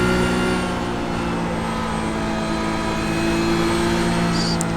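Porsche Cup race car engine in the iRacing game at Road America, a steady loud droning roar with layered harmonics holding a constant pitch throughout, with no voices.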